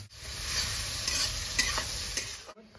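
Chopped onion, dried red chillies, whole cumin and black cumin sizzling in hot oil, stirred with scraping strokes; a close, steady crackle over a few seconds with no talk.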